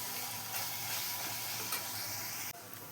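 Pasta being stir-fried in a pan (kadhai) with dry spices such as goda masala, coriander powder, onion-garlic masala and red chilli powder gives a steady, close sizzle with faint stirring scrapes throughout, with no talk.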